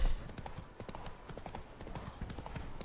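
A horse's hooves clip-clop rapidly and steadily in the video game The Witcher 3: Blood and Wine. The hoofbeats are close and continuous for the whole moment.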